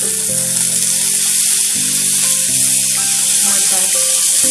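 Onions stir-fried in oil until golden for Maharashtrian phodnicha bhaat, a steady loud sizzle that runs unbroken throughout, with layered tonal music playing over it.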